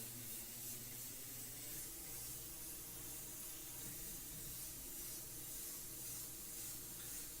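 Steady, continuous hiss of spray running without a break, fairly loud and close, with a faint low hum underneath and no voices.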